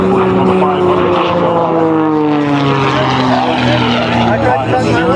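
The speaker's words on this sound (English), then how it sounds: "Pulls that stick back and that airplane starts to accelerate down on the line." Aerobatic propeller airplane pulling a high-G fighter-style turnaround at an air show, its engine roaring loud and close with a pitch that slowly sweeps downward throughout.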